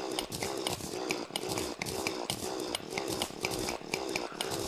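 Drills in the Terraria video game grinding in a fast, buzzing, pulsing rhythm, repeated bursts roughly every half second with a harsh rasping edge, loud and continuous, with no one talking.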